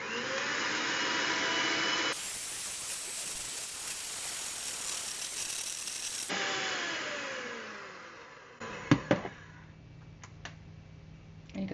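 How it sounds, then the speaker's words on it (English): Electric hand mixer whipping egg whites in a bowl until they form stiff peaks, a loud continuous motor whine that changes tone as the beaters move, then winds down to a few clicks and taps. "we're going to beat those until they're very stiff"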